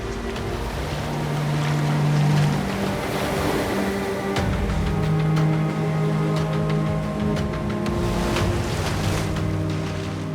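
Surf rolls and breaks continuously onto a shore of sand and pebbles, close and loud with a rushing wash, overlaid with wind buffeting.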